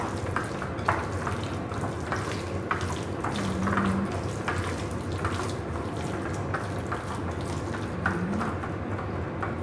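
Beef for pepper steak sizzles steadily in a pan as soy sauce is poured in, a faint continuous frying hiss with light stirring clatter throughout.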